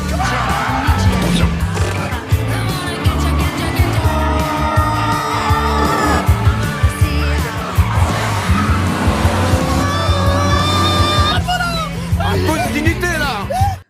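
Cars race by with engines roaring and tires squealing and skidding in a continuous chase, voices and crowd noise mixed underneath.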